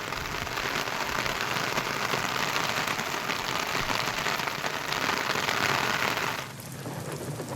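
Heavy monsoon rain pours down in Shahapur, a loud, dense roar of water on surfaces that holds steady, then drops slightly in level near the end.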